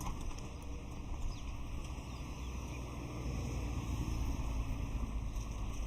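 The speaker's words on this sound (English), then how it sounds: "It's a bit of a chilly, windy morning, but the sun is out" Wind blows across an outdoor cricket ground on a chilly morning before an over-50s World Cup final between Zimbabwe and Pakistan, a steady, unbroken low roar and buffeting on the microphone with no voices.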